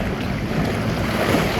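Wind buffets a head-mounted camera aboard a sailboat moving fast over waves, a loud, steady roar of gusts and rushing water that eases slightly but never stops.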